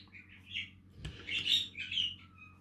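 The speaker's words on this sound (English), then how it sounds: "Excuse a bird chirping in the background." A bird chirps and tweets in a few short bursts in the background of a quiet room, faint and somewhat distant, with a soft knock partway through.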